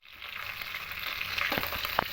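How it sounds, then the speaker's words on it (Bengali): A hilsa fish head fries in hot oil, a close, brief and steady sizzle with a couple of sharper spits near the end. "এবার ইলিশ মাছের মাথাটা তেলের মধ্যে দিয়ে ভেজে নেব"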